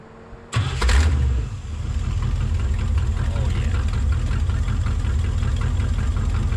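A vehicle engine fitted for a film sound recording cranks and catches after a short quiet moment, gives a loud burst as it fires, then settles into a steady close rumbling idle.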